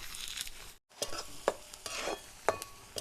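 Onion frying in oil in a pan while being stirred, with a close soft sizzle broken by scraping strokes of the spoon and a brief pause, no talk.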